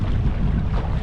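A steady, strong wind of around 20 mph gusts across a Tracker Panfish 17 fishing boat, producing a continuous loud rushing buffet with low rumble, no talk.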